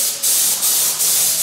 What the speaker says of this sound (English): Kim just started painting, even though I'm not wearing a mask